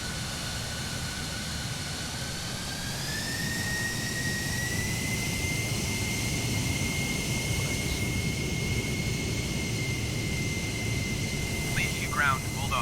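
F-16 fighter jet taxiing in Microsoft Flight Simulator, a steady loud engine whine with a rising tone that holds high, continuous throughout with no break.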